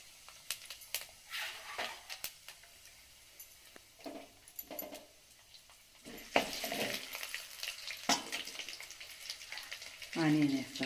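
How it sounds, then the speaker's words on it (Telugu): Tempering spices crackle and sizzle as they hit heated oil in a home kitchen, in irregular hissing bursts that swell midway, with a faint voice near the end. "ఆయిల్ వేడెక్కింది. పోపు దినుసులు"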